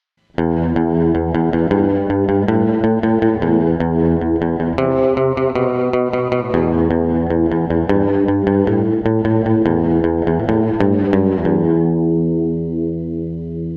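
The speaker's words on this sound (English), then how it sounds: "a retro, almost gated reverb kind of effect that sounds great for some retro purposes" A distorted electric bass plays a driving post-punk style line through a Catalinbread Soft Focus with a retro, gated reverb effect, loud and sustained, ringing out briefly at the end.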